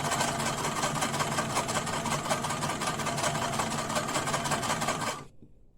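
A Gemini sewing machine from Stitch Master by Knit Master stitching thick microfibre towel fabric, a steady fast mechanical whir with rapid rhythmic needle chatter, close and constant before cutting off abruptly near the end.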